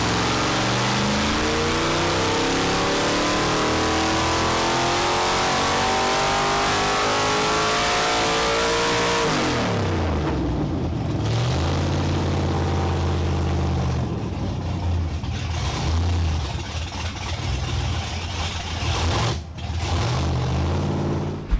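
A 363ci V8 on a dyno runs at sustained high revs with a loud, steady roar, then drops off into a lower idle with shifting throttle blips near the end.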